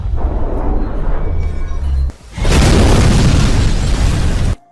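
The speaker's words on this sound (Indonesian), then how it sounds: "Ledakan yang terjadi tak jauh dari lokasi Tommy" A bomb goes off in a hotel in a dramatic film, a loud close blast and roaring rumble that sustains for about two seconds after a brief dip, then cuts off.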